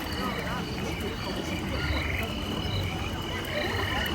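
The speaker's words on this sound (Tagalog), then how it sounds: "May mga kuliglig." Dense nighttime chorus of insects and frogs at Fantasy Springs in Tokyo DisneySea, a continuous high shimmering trill layered over low croaks, steady and moderately close, with faint voices in the background.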